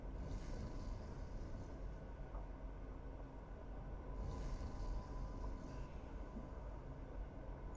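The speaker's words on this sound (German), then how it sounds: "erstmal kehrt die Rakete zur Erde zurück, sie fährt die Laderampe ein" A rocket in the Surviving Mars game retracts its loading ramp and lifts off, producing a steady low engine rumble with faint airy whooshes swelling twice, quiet and continuous throughout.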